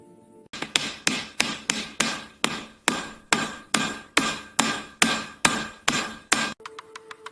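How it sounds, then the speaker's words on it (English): Steady, evenly spaced hammer blows ring out about twice per second as rivets are hammered into the metal of a WW2 P-38 aircraft, a dozen or so strikes in a row, close and loud, no voices. "Rivets hammer in rhythm,"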